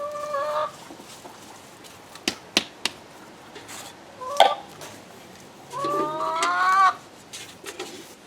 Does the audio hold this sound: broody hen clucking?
yes